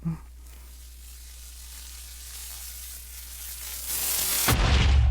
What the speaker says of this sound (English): I shall raise you one more explosion